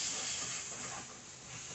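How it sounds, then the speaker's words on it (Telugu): Brinjal frying in a pan with chilli powder, a faint, steady hiss of sizzling oil throughout, quiet and continuous with no other sounds. "1 మినిట్ ఫ్రై చేసుకోండి అలా."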